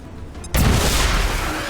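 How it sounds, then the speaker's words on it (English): A plasma grenade detonates in the XCOM video game, a sudden loud blast that hits at once and leaves a dense roar rolling on after it, heard alone. "she's going to deploy a plasma grenade"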